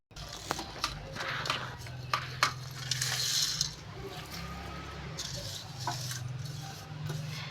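Rasam spices are crushed and ground on a small stone ammi, giving irregular scraping, grinding and knocking strokes of moderate loudness.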